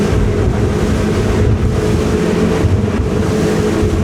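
A Koshi 51 boat runs at speed through waves, its engine droning steadily under constant rushing water and wind buffeting the microphone throughout.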